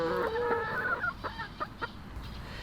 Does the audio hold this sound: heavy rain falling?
no